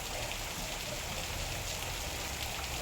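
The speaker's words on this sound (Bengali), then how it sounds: "দেখছি ঝমঝম করে আওয়াজ হচ্ছে, বাইরে বেরিয়ে দেখছি কি বৃষ্টি হচ্ছে" Steady rain pours outside a home during hot West Bengal weather, a dense, even hiss of falling drops that continues without a break for the whole stretch.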